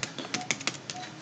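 Fingers typing a fastboot command on a computer keyboard to unlock a Moto G4 Plus bootloader, a quick, faint run of close key taps in an irregular rhythm.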